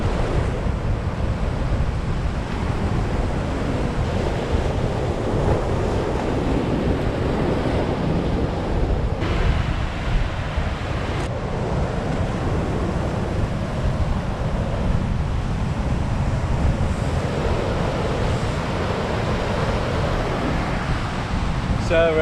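Sea waves roll and wash steadily on a stormy Northumberland shore, with constant wind buffeting the microphone in a loud, unbroken roar.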